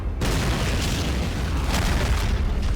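Artillery explosions in an Army Men of War video game, a loud continuous rumbling boom with dense low-end blasts and crackle sustained throughout, starting abruptly after a brief moment.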